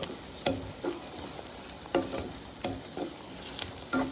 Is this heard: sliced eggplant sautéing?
yes